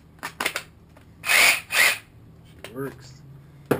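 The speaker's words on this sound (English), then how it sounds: "This is the reciprocating saw." A reciprocating saw in a workshop fires in two short, loud buzzing bursts close to the microphone, with a few knocks around them and a brief spoken remark after.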